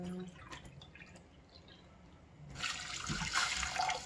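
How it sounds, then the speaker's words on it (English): Water poured into a cooking pot while making a Cambodian squash pickle with sugar, a broad splashing pour starting partway through and running steadily to the end, after a quieter stretch of faint kitchen noise. "Just then I add water."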